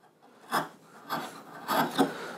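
A sharp chisel pares wood from a tenon in about four short, rasping strokes, close and distinct, with quiet pauses between them.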